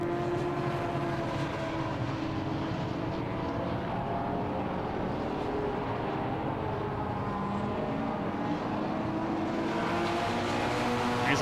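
Mark 1 Ford Escorts and a BMW E46 Compact race side by side at Silverstone in a classic touring car event, their engines droning steadily with shifting pitch, loud and continuous with no talk.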